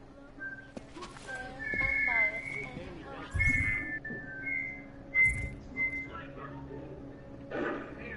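Several clear whistled notes, some rising and some falling, sound over a low steady hum, with a couple of louder thumps and a voice talking at times.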